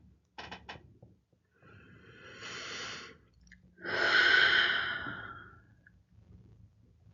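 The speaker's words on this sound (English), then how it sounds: "let us begin just with some breathing" Slow, deep breaths during a guided meditation session at a church: a soft inhale followed by a longer, louder exhale, close and unhurried with no speech.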